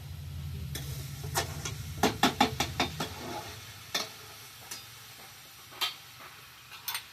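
A spoon scrapes and taps against a pan as spice masala is stirred and sautéed for a dish of home-grown jackfruit, with irregular sharp clinks over a low sizzle and no talk.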